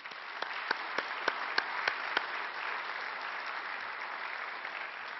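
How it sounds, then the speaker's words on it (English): Audience applause for sponsors at a breakfast event in a conference centre, a steady wash of many hands clapping with a few sharper claps standing out early, moderately distant and even. "What about a big round of applause for our sponsors?"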